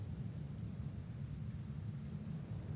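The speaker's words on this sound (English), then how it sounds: "Right now, it's just normal rain" Steady, quiet rain hisses in a video game world, with a soft low rumble underneath and no other sounds.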